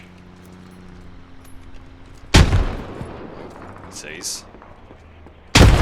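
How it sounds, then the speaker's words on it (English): In the military shooter Squad, two loud, sharp blasts of grenade and gunfire crack out near the middle and the end against a quieter battlefield, with voices talking over the scene. "he's going to throw a cheeky nade"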